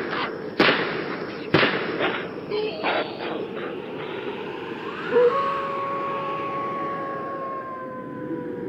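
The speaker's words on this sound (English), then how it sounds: "Henry heard cries and 3 gunshots." Two sharp, loud gunshots crack about a second apart, followed by a long, rising and falling siren-like whine that fades into the distance.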